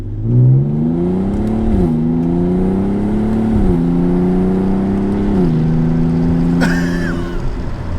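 An Audi A3 VR6 with its muffler deleted accelerates under load, the exhaust roaring loud and close with the pitch climbing and dropping at each gear change; a short burst near the end, no talk.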